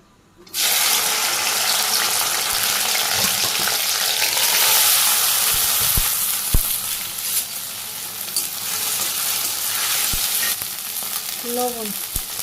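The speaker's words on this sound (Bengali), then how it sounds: "তো প্রথমে ঢেঁড়স ভাজি করি।" Okra frying in hot oil in a pan in a village kitchen: a loud, steady crackling sizzle begins abruptly and continues throughout, with a few scraping stirs and knocks nearby.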